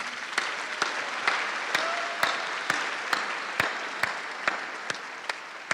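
Audience applause for graduate students at LSU's August 2021 graduation ceremony, a steady hall-filling clatter of many hands with a few sharper claps standing out, sustained throughout.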